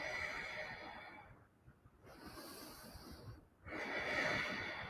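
Breathing in a yoga flow, with long airy breaths rising and falling in waves and one deep breath fading out before the next begins. The breaths are close and soft and no one speaks.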